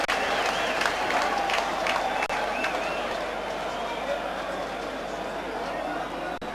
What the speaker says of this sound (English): much to the sarcastic applause of the Argyle fans